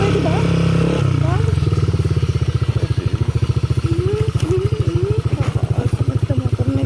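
A motorcycle engine runs loud and close with a steady rapid putter that rises into a strained, rhythmic throb on a ride toward Simminublan Falls in Santol, La Union, with voices talking over it.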